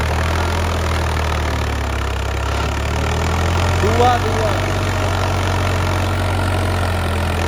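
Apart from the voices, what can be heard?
tractor engine running with 9-foot rotavator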